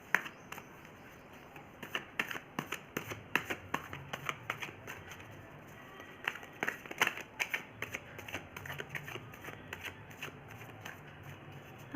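Tarot cards shuffled by hand in a steady run of soft, papery riffles and flutters, close and fairly quiet, with no talking.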